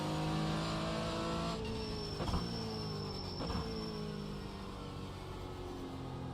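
GT4 race cars roar along the straight at Daytona, engines droning loud and close with rising and falling pitch as cars shift and pass in quick succession.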